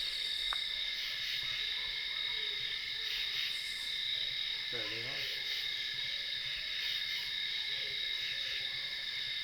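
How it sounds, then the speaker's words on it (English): Two barred owls call in a forest at night, their hoots faint and distant beneath a loud, steady chorus of insects, with a voice speaking briefly. "No, that's 2 barred owls"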